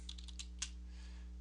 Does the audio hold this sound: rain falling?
no